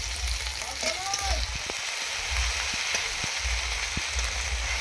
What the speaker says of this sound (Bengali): আদাটা একটু হালকা করে একটু নাড়াচাড়া করে নিলাম